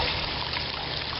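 A Shop-Vac wet vacuum hose sucks up water with a steady, dense gurgling rush that fills the whole clip at close range, and no voices come through.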